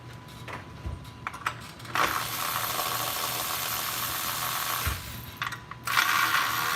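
Gear wrench ratcheting in a garage, a few scattered metallic clicks, then a long steady buzzing spin of the mechanism, close and fairly loud with no talking.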